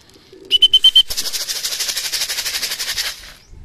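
A racing pigeon near its loft gives a short whistle-like tone, then a rapid train of soft, rhythmic wing flaps lasting about two seconds, close by and fading out.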